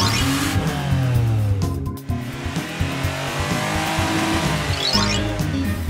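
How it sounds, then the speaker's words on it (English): An animated cartoon garbage truck drives along with a revving engine and squealing tires, loud and continuous, with a brief dip partway through. "Garbage truck."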